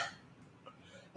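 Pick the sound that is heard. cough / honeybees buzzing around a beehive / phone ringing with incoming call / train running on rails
cough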